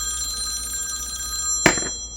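A phone rings from a spam call, a sustained electronic ringtone close by, ending in a short clatter as it is picked up.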